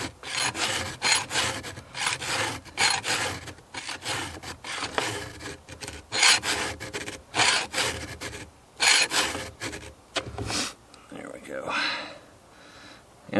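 Chainsaw chain being sharpened with a 2-in-1 file sharpener, a series of close, rhythmic rasping strokes, roughly eight in a row, with brief pauses between them.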